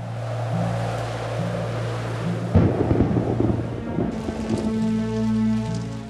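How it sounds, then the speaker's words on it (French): Steady rain falls outdoors in cold weather, with a heavy roll of thunder breaking in partway through over a constant wash of rainfall. "Il pleut, il fait froid,"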